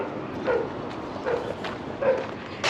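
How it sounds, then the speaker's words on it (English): A dog barks three times at a distance, short muffled woofs spaced roughly evenly apart over a constant background hum of outdoor noise. "There's Cujo. Cujo the dog"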